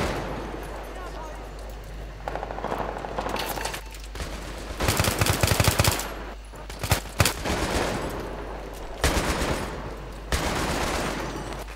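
Sustained machine gun bursts and scattered gunfire from a Battlefield 3 co-op mission, loud and dense with heavier impacts partway through, while players talk over the shooting.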